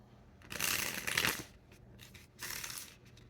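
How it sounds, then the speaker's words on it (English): Brisk riffling of a deck of cards in two bursts with a short pause between, close up and fairly loud, with no talking. "getting a good shuffle here, warming them up."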